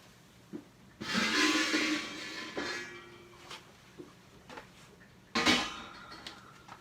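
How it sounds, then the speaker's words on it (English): A hot lid is pulled out of an oven while sourdough bread bakes. A sharp metallic clank and scrape is followed by lighter knocks and a second loud clatter near the end, all fairly close. "I'm going to pull that lid out."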